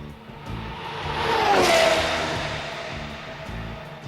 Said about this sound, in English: The sound of a race car coming toward you has a higher pitch, and the sound of a car going away has a lower pitch.